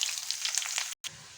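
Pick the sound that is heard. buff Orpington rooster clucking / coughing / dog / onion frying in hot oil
onion frying in hot oil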